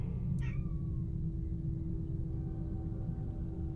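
A house cat gives a single short meow, close by, over a steady low hum of game music and background noise.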